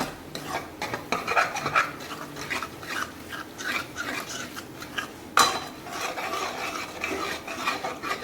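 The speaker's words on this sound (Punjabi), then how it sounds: "ਹੁਣ ਆਪਾਂ ਤੜਕੇ ਦੇ ਵਿੱਚ ਆਪਾਂ ਮਲਾਈ ਨੂੰ ਮਿਕਸ ਕਰ ਲਾਂਗੇ" A spoon scrapes and stirs cream into hot ghee tempering in a pan with repeated metallic rasps and clinks, steady and close, one sharper knock partway through.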